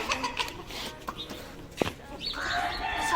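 Chickens in Pakistan gather to peck at scattered grain, giving faint, scattered clucks along with soft scratching and pecking sounds.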